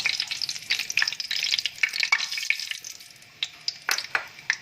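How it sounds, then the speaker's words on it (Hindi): Ajwain and kalonji seeds crackle in hot ghee for a Bengali cauliflower and fish salan, with a dense sizzle at first that thins into sharp, separate pops and stirring clicks. "सबसे पहले इसमें डालेंगे अजवाइन और कलवंजी को डाल के थोड़ा सा इसको चंद सेकंड तक फ्राई करेंगे"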